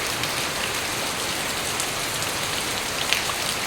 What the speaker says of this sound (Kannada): ತುಂಬ ಜೋರಿಂದ ಮಳೆ ಇದೆ